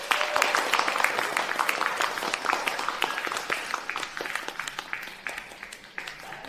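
A crowd applauds at a wedding to welcome the bride and groom onto the stage, with steady dense clapping that runs throughout and thins slightly toward the end.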